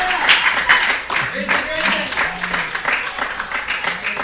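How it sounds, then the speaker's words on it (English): Teammates applaud young batsman Nanan at an under-15 cricket festival match: steady scattered clapping from a small group outdoors, running beneath a commentator's voice throughout. "Being applauded by his teammates."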